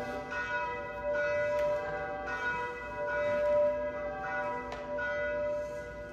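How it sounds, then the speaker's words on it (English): A church bell rings steadily, its bright metallic partials sustaining and overlapping with fresh strikes every second or so, moderately loud with a faint roomy background. "the bell is still ringing 223 years after the making of it"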